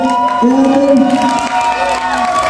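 A theatre audience at a school drama performance cheers and shouts loudly, a dense crowd roar with high whooping voices rising over it throughout.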